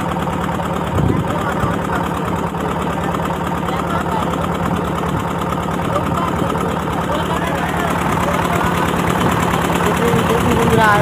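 A boat engine drones steadily and close throughout a river crossing on the Matla river toward Kaikhali, a continuous low mechanical hum with faint vibration and no break in its rhythm.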